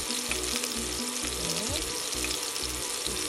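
Angus meatballs fry in hamburger grease in a pan with a constant loud crackling sizzle throughout. A utensil stirs and scrapes at a steady rhythm, close up.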